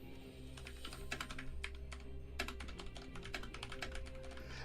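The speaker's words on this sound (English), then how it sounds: "Furious typing." Furious typing on a computer keyboard, a dense rapid clatter of keystrokes at close range with louder bursts throughout, alone without talk.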